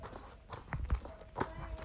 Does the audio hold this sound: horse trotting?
yes